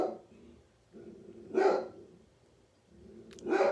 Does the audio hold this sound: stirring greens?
no